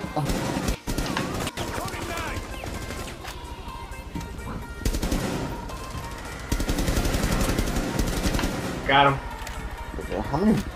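Gunfire in the shooter Rainbow Six Siege rattles in sharp bursts against clattering footsteps and scuffles, close and loud, while players talk excitedly throughout.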